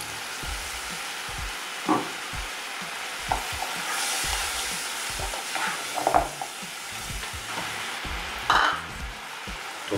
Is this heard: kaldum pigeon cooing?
no